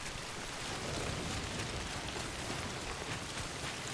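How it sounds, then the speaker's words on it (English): Timefall rain in Death Stranding, a steady dense downpour hissing across the whole clip at even loudness, with a soft low rumble underneath and no voices. "We've been getting near constant timefall in this region."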